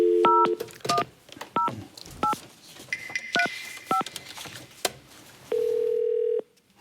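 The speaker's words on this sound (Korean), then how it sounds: "전화 연결해 보겠습니다." Telephone keypad dialing while a call is put through on a Korean TV talk show: a quick run of clear two-tone DTMF beeps of varying pitch, a few clicks, then a steady tone near the end before it cuts off.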